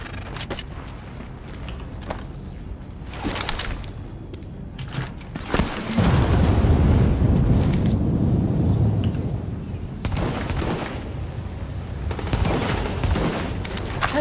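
Heavy gunfire erupts in the video game The Division during a Grand Central Station mission, with rapid overlapping shots, booms and clattering effects that swell to a dense, loud barrage midway.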